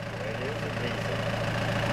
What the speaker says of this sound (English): Engine's got a knock in it